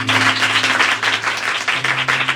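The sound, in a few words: congregation clapping in church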